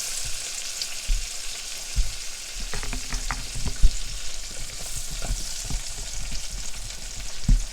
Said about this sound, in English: We got this lemon frying.